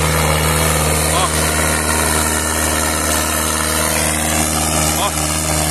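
A New Holland T6 110 tractor engine idles with a steady, loud low rumble and constant mechanical drone, continuous and close throughout.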